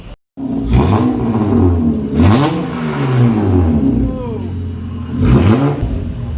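A 2004 Acura TL with a 3.5-liter stroker engine revs hard in three loud, sharp bursts that rise and fall, with the engine idling roughly between them. Voices talk over it.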